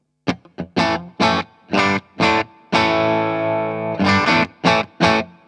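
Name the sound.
clean electric guitar tone through amp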